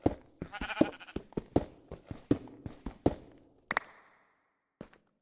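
Sheep bleating in a fantasy building video game, a quick run of short, close bleats and soft steps that thins out into a few scattered calls before falling quiet.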